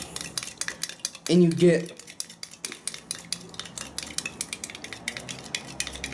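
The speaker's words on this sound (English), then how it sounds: "So, you just stir that in with the coffee, I think." A spoon clinks rapidly against a cup as MRE drink mix is stirred into coffee, a steady stream of bright metallic taps with a brief spoken phrase early on.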